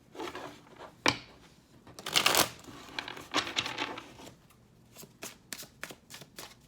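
Tarot cards are shuffled close up, with quick riffling and papery flicks in uneven bursts, one louder flurry and then lighter taps and slides.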